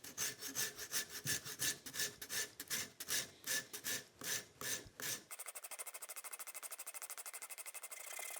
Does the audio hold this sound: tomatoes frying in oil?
no